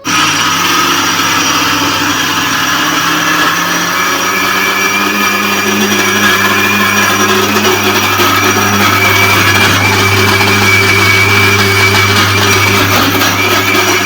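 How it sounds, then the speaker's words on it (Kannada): A mixer grinder grinding soaked urad dal runs loud and steady throughout, a continuous motor whine with a constant hum underneath and no pauses. "ಇವಾಗ ಇನ್ನೊಂದ್ಸಲಿ ನೀಟಾಗಿ ತೊಳೆದ್ಬಿಟ್ಟು ಗ್ರೈಂಡ್ ಮಾಡ್ಕೊಳ್ಬೇಕು"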